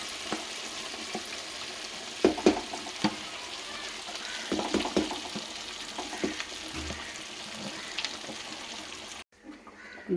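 Curry leaves and asafoetida tempering in hot oil for a tomato pickle, a steady bright sizzle with scattered crackling pops and a few louder spits, stirred now and then, ending abruptly.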